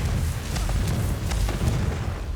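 A Confringo fire spell bursting in Hogwarts Legacy inside a dark herbology corridor, a deep rumbling boom that sustains as a low roar, with a few faint crackling pops over it.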